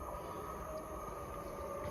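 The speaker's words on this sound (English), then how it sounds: "I do believe it is our first freight train." A steady, low rumble of a freight train rolling in at Cholsey station on the Great Western Main Line, with a faint metallic hum and whine over the continuous rolling noise, and nobody talking.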